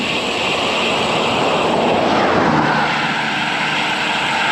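Strong wind roars steadily past the microphone on a road bike ride along smooth asphalt, a loud, continuous broadband rush with no breaks or voices.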